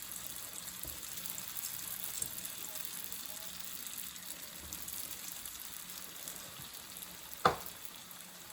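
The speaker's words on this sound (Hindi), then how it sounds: "अब ये देखिए, हम रोल फ्राई कर रहे हैं।" Keema rolls fry in hot oil, a low, steady sizzle running throughout with one sharp knock or splash near the end; no voices.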